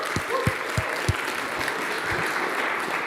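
Audience applause at the PitchUP 2024 start-up pitch event, a steady wash of many hands clapping across the room, with a few louder near claps at the start, continuing evenly throughout.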